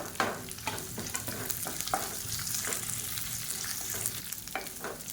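Garlic and long-sliced onion sautéing in a pan for chutney, a soft continuous sizzle broken by occasional scraping stirs of a spoon, fairly quiet and close with no voices.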